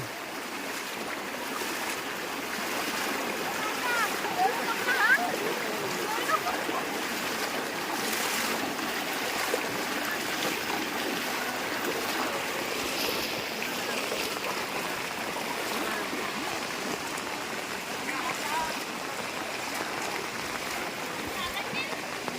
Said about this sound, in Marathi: बघा रोडवर एवढा पाणी